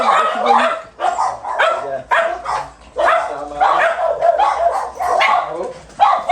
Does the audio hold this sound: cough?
no